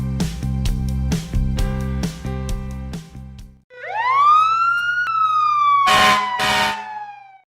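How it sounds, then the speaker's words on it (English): An army ambulance siren wails in one long rising and falling sweep, loud and close, after a stretch of rhythmic, toy-like tonal music, then two short bursts of noise close it out. "An army ambulance is a rugged medical vehicle designed to transport injured soldiers in combat zones."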